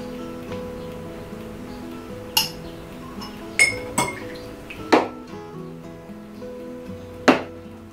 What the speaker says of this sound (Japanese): こちらのスプーンですくってショットグラスから飲みました